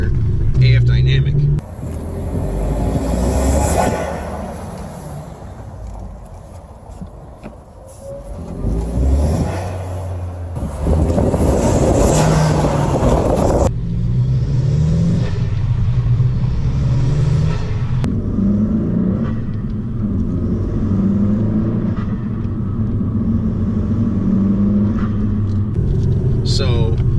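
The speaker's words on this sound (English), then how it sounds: "I'm going to throw in a couple clips from recordings I've already taken of the intake you can just buy off the shelf" A Honda Civic engine fitted with a $160 AF Dynamic aftermarket air intake, its loud, steady rumble swelling and settling through several revs and a few cuts between recordings.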